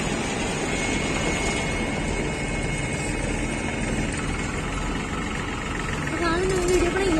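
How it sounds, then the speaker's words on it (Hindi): A road roller and other road-building machinery run as a fresh road surface is flattened, giving a steady, continuous engine drone at moderate distance. "उसके ऊपर से ना गाइस रोड रोलर मतलब जो है उसको फ्लैट करता जा रहा है।"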